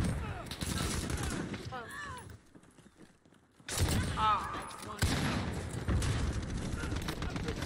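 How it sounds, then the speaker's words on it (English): Heavy bursts of automatic gunfire in Call of Duty: Modern Warfare, loud and continuous with a brief lull midway before the shooting resumes, mixed with a person talking. "I'm reloading. And I'm being shot at the same time."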